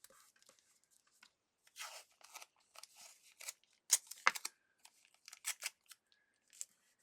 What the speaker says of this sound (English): So I'm going to use the tape straight from the roll.